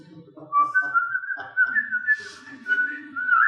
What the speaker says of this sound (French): Je suivis ce mauvais garçon qui sifflotait